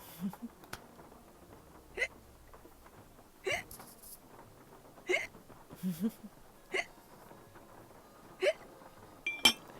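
A character in the Nancy Drew game Legend of the Crystal Skull hiccups about eight times over ten seconds. The hiccups are sharp, evenly spaced and isolated, over a faint, quiet background.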